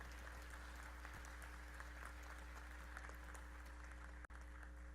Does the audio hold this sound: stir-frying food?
no